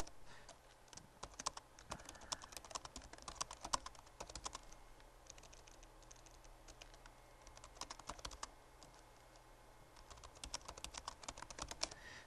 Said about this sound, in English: we can actually type an instant message and actually talk to the user right here.